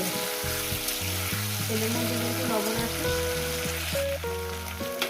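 Vegetables or fish frying in oil on medium heat, a constant close sizzle that runs steadily throughout, with music playing underneath.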